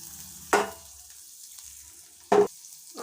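Butter sizzling in a pan while pav bhaji masala, chilli powder and coriander cook, with two sharp bursts of stirring or scraping standing out over a low steady fry; no one talks.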